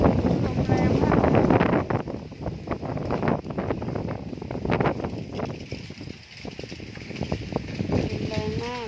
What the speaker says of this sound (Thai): เสียงลมแรงมากเลยค่ะเพื่อน